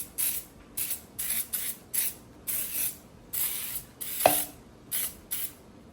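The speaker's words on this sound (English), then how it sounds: "I'm just using the Pam baking spray" Pam baking spray is sprayed onto a cake pan in a string of short, close hissing bursts of irregular length, with a brief knock partway through.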